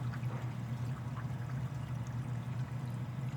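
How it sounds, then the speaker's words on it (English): Water from a CPR CS90 hang-on-back overflow on a 75-gallon mixed reef aquarium pours steadily in a close, continuous low rush with no breaks, alone and without talk. "here is my hang on the back overflow from the back view."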